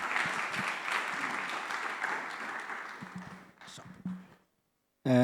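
Audience applause at a community dialogue event fills the room for about four seconds, a dense steady clapping that fades out, followed by a short silence before a voice begins.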